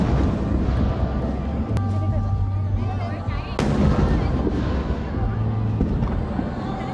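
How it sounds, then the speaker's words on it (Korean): Small fireworks burst at a summer port festival in Japan, two sharp booms standing out over a steady crowd murmur and a low droning hum, with people talking throughout. "도쿄나 다른 큰 도시에서 하는 불꽃놀이랑 비교하면 정말 작고 초라한 불꽃놀이지만"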